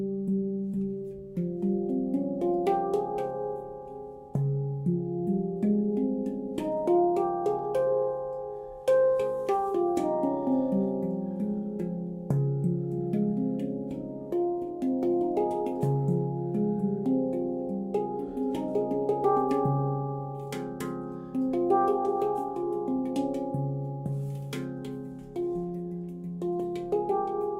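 A handpan tuned to an Aegean scale variant with a G in place of the usual note rings out in a flowing, continuous melody, its soft metallic tones overlapping and sustaining under steady, close playing.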